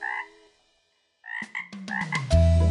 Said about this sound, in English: Went the little green frog one day